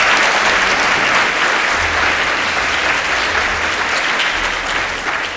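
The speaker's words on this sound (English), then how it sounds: "Let's give the PyTexas organizers a round of applause for that." A conference audience at PyTexas gives the organizers a loud, dense round of applause, sustained and steady throughout and tapering slightly at the end.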